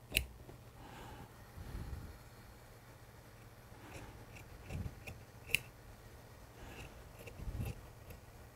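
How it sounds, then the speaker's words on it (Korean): Scissors snip through suit trouser fabric during a hem alteration, a few quiet, sparse cuts with soft ticks between them against a faint low hum, no voices. "1cm만 두고 잘라버리는 겁니다."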